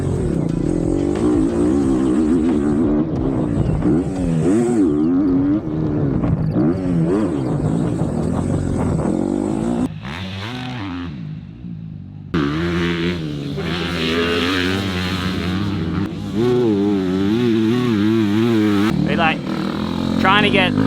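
A motocross motorcycle engine revs loudly and continuously during race testing on a slippery track in Thailand, the pitch rising and falling with throttle changes, and a voice talks over it.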